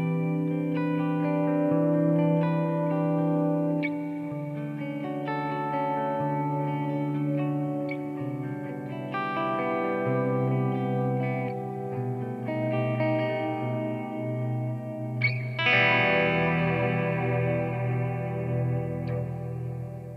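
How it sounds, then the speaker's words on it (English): Sustained instrumental tones ring out through a TC Electronic G-System hall reverb, its long, spacious tail blurring notes together, continuing steadily for about twenty seconds. "Let's have a listen to the new hall reverb."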